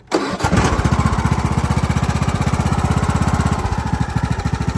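A Craftsman riding lawn mower with a new engine and carburetor cranks briefly, then catches and settles into a loud, close, steady pulsing run.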